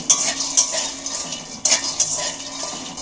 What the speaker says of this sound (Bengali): শুকনো খোলাতেই বাদামগুলো ভাজব